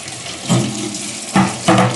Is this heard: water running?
yes